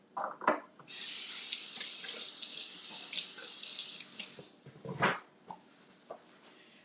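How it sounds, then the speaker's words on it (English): A kitchen tap runs at the sink while hands are washed during a cooking demonstration, a steady hissing stream lasting several seconds with splashy breaks and clunks, and a dog barks faintly nearby. "Let me just wash my hands because I had raw egg."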